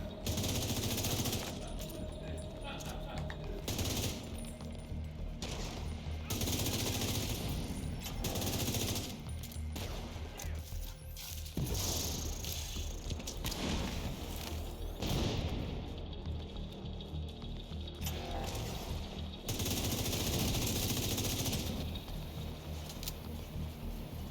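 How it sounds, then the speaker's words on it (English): Repeated shotgun blasts from a video game during a hard Summit speedrun, loud bursts recurring every few seconds over a dense game soundscape with a voice faintly present. "And it's a shotgun."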